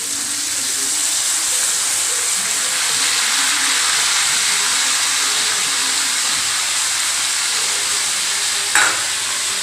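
Spice paste stir-frying in a pan with fried Malabar spinach stalk vegetables, a steady loud sizzle and hiss running throughout, with one brief scrape of the spoon near the end.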